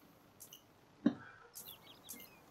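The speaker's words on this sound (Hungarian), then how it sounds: "Én a madár csizsergés hallom." Birds chirp faintly in the video game PUBG, with a few short, high tweets spaced apart against a quiet background and a single soft thud in the middle.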